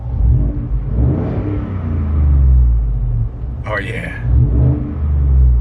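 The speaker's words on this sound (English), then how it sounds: "Nice little rumble. I can actually hear the engine now." A Ford F-150 with a budget exhaust modification idles and revs, giving a deep low rumble that swells and eases, while someone talks over it close by.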